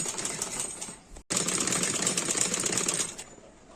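A sewing machine stitches a side-plate frock for a young child, running in a fast, even whir that breaks off sharply for a moment, resumes and fades near the end.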